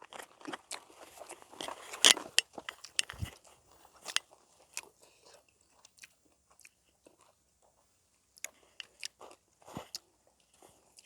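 Mountain snails are eaten with loud, close, crisp crunching bites and chewing, bursts clustered in the first few seconds and then sparser, irregular crunches with quiet gaps, in a rustic home kitchen.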